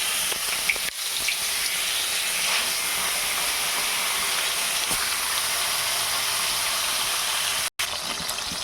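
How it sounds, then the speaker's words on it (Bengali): Koi fish sizzling in hot oil in a wok, a steady loud broadband hiss of frying that runs unbroken throughout, with a brief cut near the end and no talking. "আমার তেলটা গরম হয়ে গেছে, তাই আমি মাছগুলো এক এক করে ছেড়ে দেব।"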